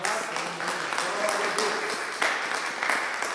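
A church congregation claps in a moderate, fairly steady round of applause with a few louder swells, with voices heard over it.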